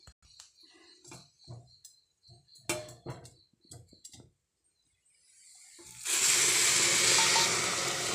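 Water pours into rice in a pressure cooker: a few quiet knocks and clinks, then a loud, steady rushing pour that keeps going to the end.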